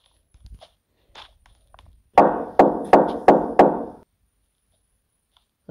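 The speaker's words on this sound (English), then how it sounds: "I heard knocking." Five sharp, loud knocks land on a door in quick succession late at night, each hit booming with a short decay, after a few faint taps and quiet scuffles.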